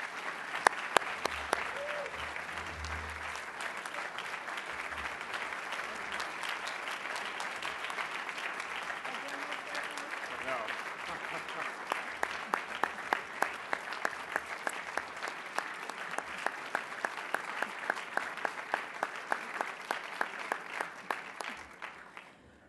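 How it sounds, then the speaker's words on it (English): A large audience at a plenary session applauds for over twenty seconds, a dense, steady clapping that stays even at a moderate distance and breaks into a few sharper, sparser claps as it tapers off at the end. "big round of applause"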